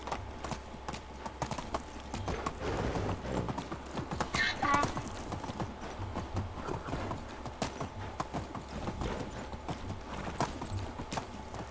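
A donkey's hooves clip-clop steadily in the medieval video game Medieval Dynasty, a close, even walking rhythm running the whole time beneath a low ambient bed, with speech over it.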